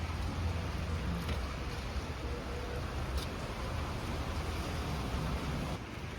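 Heavy rain suddenly pours down outside, a steady, dense hiss of water on surfaces that holds evenly throughout with no voices.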